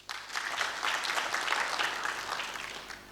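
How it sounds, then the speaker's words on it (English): An audience at an international pharmacy research conference claps, a steady wash of many hands applauding that holds for about three seconds before tapering slightly. "Another round of applause."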